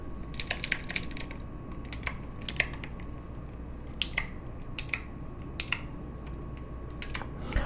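Sharp clicks of keys on an Apple Magic Keyboard come in quick bursts and pauses, crisp and close, over a low background hum.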